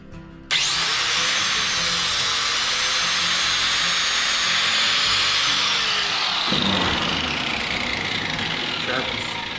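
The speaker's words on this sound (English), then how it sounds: "I drilled a small hole in here in the grinder, turn it on." A grinder starts abruptly and runs with a steady high whine while a welding tungsten is sharpened through a small hole drilled into it; the pitch shifts partway through as the tip is ground.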